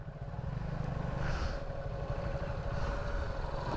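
A local motorcycle labours up Maraingcha Hill, its engine a steady, close, continuous drone that rises slightly in effort throughout, with no talk over it.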